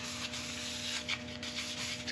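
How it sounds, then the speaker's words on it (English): Soft continuous rubbing as a cloth wipes freshly sanded wood with isopropyl alcohol, faint and close, with gentle strokes under a steady low hum. "I'll just give this a wipe down now with isopropyl alcohol"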